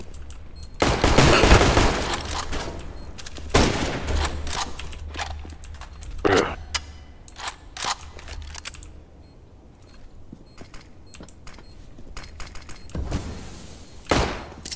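Burst-fire gunshots in a video game, sharp loud clusters of rapid shots separated by pauses, mixed with clicky keyboard tapping between the bursts.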